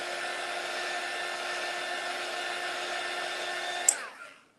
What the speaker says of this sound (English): dryer is tangled up in one of the lights here. I'm just gonna hit this real quick, so it shouldn't take long to dry